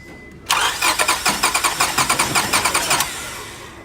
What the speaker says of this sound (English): you're going to start the car and you're going to crank it over about 4 times